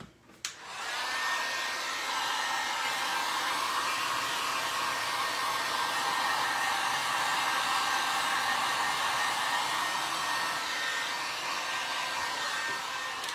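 A hair dryer switched on and left running to dry an outdoor pumpkin pie, a steady loud whoosh that holds evenly after a brief click at the start.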